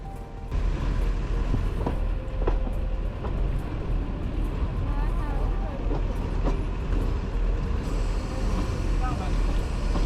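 A diesel locomotive pulling a two-coach toy train on the Darjeeling Himalayan Railway rumbles steadily and close by throughout, with wheel clatter and intermittent squeals over a constant low engine drone.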